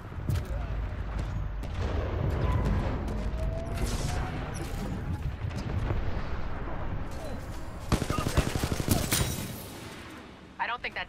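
Rapid gunfire and heavy weapon blasts in the video game Titanfall 2, bursts of shots and booms over a rumbling battle, with in-game voices talking at times.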